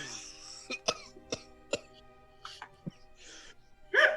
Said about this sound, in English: Why are you so good at coughing?